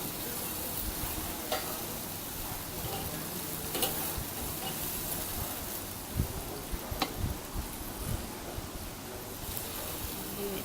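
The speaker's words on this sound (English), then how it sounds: "Love that sizzle." Food sizzles steadily on a hot grill, a constant crackling hiss with occasional pops and small clicks, close and moderately loud.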